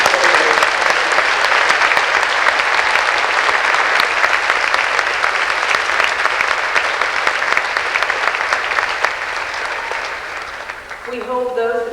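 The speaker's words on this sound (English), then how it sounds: "applause, please, for our guest conductors" A large indoor crowd claps in sustained, even applause for guest conductors, loud and dense. It fades slightly before a voice starts speaking at the very end.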